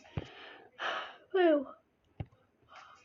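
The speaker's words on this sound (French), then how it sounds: "Oh, j'ai baillé." A person yawns with a drawn-out, voiced, downward-gliding sound, surrounded by short breathy huffs and small mouth noises.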